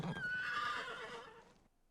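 A horse whinnies loudly in a fantasy drama scene, a long, wavering neigh lasting over a second before it breaks off into near silence.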